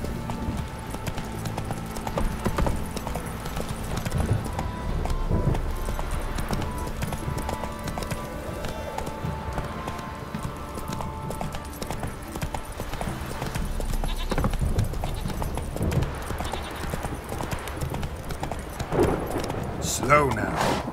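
Roach, a horse in The Witcher 3 video game, gallops with steady, rhythmic clip-clop hoofbeats throughout, a rider's voice occasionally urging it on over game music and ambience.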